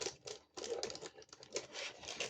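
Plastic packet from a craft kit box being unwrapped and handled up close, giving irregular crinkling and rustling bursts with a short pause near the start.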